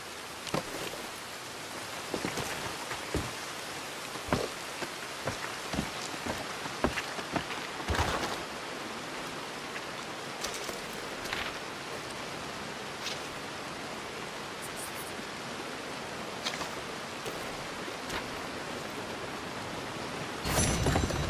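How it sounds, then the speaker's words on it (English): Steady rain in Red Dead Redemption 2 hisses throughout, with scattered droplet taps and a few brief rustles, fairly loud and even. "Well, the rain's back"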